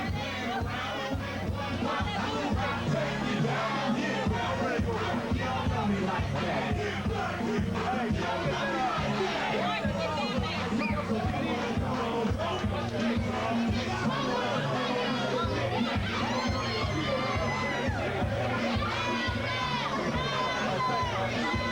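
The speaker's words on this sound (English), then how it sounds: "you can see his cheering section singing and dancing here" Boxing fans in a cheering section sing, shout and dance at a pro boxing bout, a dense, continuous crowd roar with rhythmic chanting and chatter throughout.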